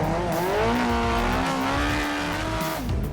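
A mud buggy powered by a superbike engine driving hard, its high, buzzing engine note rising steadily and sustained close up for about three seconds, with some tyre scrub underneath and no talking.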